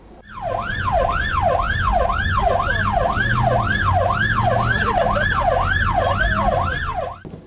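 A loud wailing fire engine siren rises and falls in a steady, fast cycle, about ten sweeps, close by, with a low engine rumble underneath, in traffic in Rivne.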